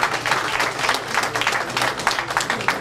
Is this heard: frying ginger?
no